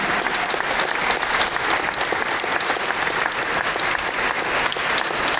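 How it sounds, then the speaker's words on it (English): Sustained loud applause from an ice hockey fan crowd, dense and continuous clapping without a break. "Big round of applause to our first season ticket competition winner, Rachel Smith."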